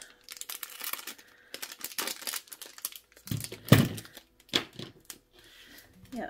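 Crinkly plastic packaging, Temu haul items, rustles and tears in short, uneven bursts nearby as scissors cut it open, with a few sharp snips and crackles and a bit of faint voice.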